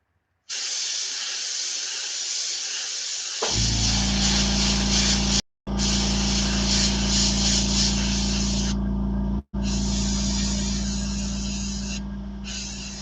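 An airbrush sprays paint onto a fishing lure painted as a cutthroat trout, a steady close hiss that starts after a short silence and breaks off twice briefly before resuming.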